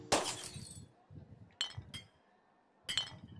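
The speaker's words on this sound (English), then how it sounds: "I'm gonna break some bottles meanwhile" Glass bottles shatter in the video game Rec Room, three separate bright breaking crashes with clinking debris, the first the loudest, with quiet pauses between.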